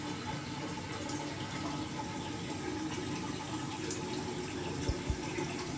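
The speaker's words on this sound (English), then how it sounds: "I'm going to now release the plug in the sink." Water rushes steadily as a sink drains right after the plug is pulled, a continuous close gurgling flow with a couple of faint knocks near the end.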